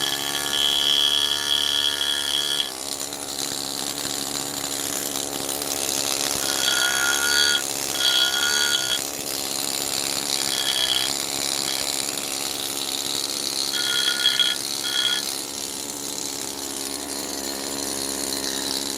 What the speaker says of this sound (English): take my chisel bit on my big air stud